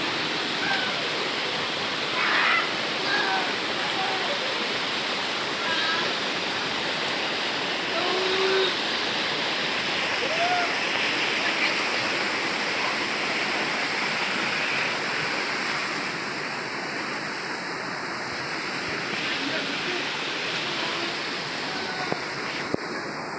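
Waterfall in Kokrajhar at an outdoor picnic spot, a steady broad rushing roar of falling water, continuous and unchanging, with faint distant voices beneath it.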